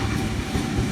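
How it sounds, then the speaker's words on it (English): A B45 train passes through platform 3 at Granville station in a loud, close, continuous rumble of rolling wheels and carriage noise with no talking. "B45 now passing platform 3."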